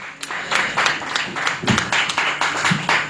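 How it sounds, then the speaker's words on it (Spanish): Wedding guests at Fer and Pati's ceremony clap in a steady, moderately loud burst of applause with several distinct hand claps standing out, lasting a few seconds without talk. "¿dónde están los aplausos?"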